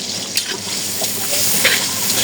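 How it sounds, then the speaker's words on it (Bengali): Sliced onions (beresta) frying in oil for a roast, giving a steady close sizzle and hiss with a few light stirring clatters, no talk. "রোস্টের জন্য বেরেস্তা ভাজতেছি আর কি"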